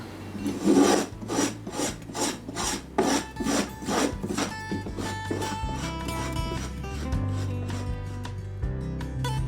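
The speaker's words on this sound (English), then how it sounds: "I'm just going to start working on my round over just with the spoke shave here." Rhythmic rasping strokes of a spokeshave shaving a rounded-over guitar neck, about a dozen quick passes, close and fairly loud, fading into a ringing hum at the end.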